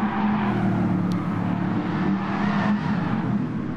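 A Toyota Tundra pickup truck driven in Gran Turismo Sport, its engine a loud, steady low drone with a faint whir on top, holding an even level throughout.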